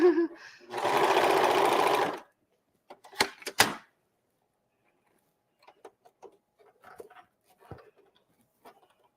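A home sewing machine runs in one short burst of about a second and a half as its foot pedal is pressed, followed by a few sharp mechanical clicks and quiet scattered handling noises.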